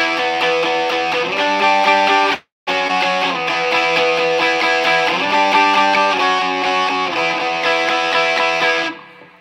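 A distorted electric guitar plays sustained chords drenched in reverb, loud and continuous, with one brief dropout partway through before ringing out at the end.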